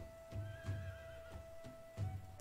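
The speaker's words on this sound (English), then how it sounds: "Horses." A horse neighing in the video game Dawn of Man, a faint, fairly distant whinny with a few soft rhythmic pulses and a steady background tone, no talking.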